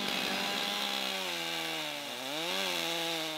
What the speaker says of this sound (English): These Logosol mills make chainsaw milling feel like bandsaw milling.